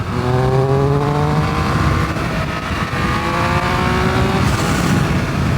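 A Triumph Speed Triple 1200 RS motorcycle accelerating hard on the road, its engine note climbing through rising gear pulls, loud and close with wind rush throughout.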